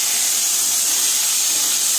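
Chopped tomatoes hit hot oil with mustard seeds, chilli, garlic and cumin for a tomato rasam. They set off a loud, steady hiss of sizzling that fills the whole moment, close up and with no talk.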